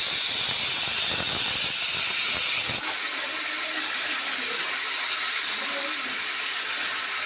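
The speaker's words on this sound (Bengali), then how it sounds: "প্রেশারে শীষ পড়ে যাচ্ছে, দেখছো?" Pressure cooker whistle releasing steam during cooking of a ridge gourd, potato and poppy seed dish, a loud harsh hiss that is strongest at first, then drops to a steadier, slightly softer hiss.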